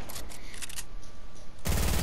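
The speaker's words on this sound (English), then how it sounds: "another guy also shoots at me from this angle, really" Gunfire in a battle royale video game, a steady stream of rapid shots followed by a louder, denser burst at the end, with no talking.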